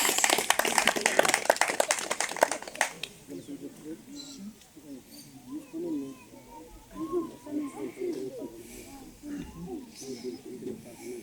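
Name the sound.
applause at a patron saint festival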